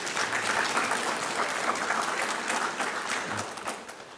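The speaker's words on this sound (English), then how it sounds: "Let us give him another round of applause" An audience at a military academy professorial inaugural lecture applauds Professor Van Dijk, with sustained, dense clapping throughout that thins out slightly near the end.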